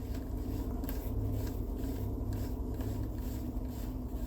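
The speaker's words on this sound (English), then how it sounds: "That's why we're using rubbing alcohol to get it clean." Scrubbing worn GM car climate control buttons with rubbing alcohol, a faint steady rasp of rubbing with soft rhythmic strokes over low background hum and no talking.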